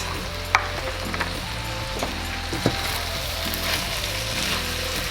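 Orzo, chicken and feta stirred together in a pot on the stove, with a steady soft sizzle under scattered scraping and a couple of sharp utensil knocks against the pot, heard close and with no talk.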